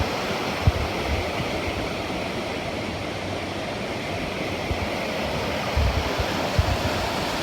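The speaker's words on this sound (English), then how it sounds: "All right, got a better view of the waterfall now." Steady broadband rush of a waterfall beside a hiking trail, continuous and fairly loud, with a few faint low thumps like footsteps underneath.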